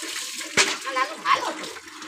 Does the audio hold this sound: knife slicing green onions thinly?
no